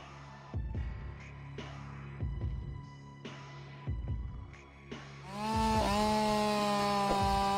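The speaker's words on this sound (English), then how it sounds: "Just you, the saw, and the rhythm of clean cuts." A chainsaw cuts into a tree on a steep, unstable Southern California slope during stump removal: an idling engine throbs in rhythmic pulses, then revs up into a loud, sustained high whine as the chain bites in.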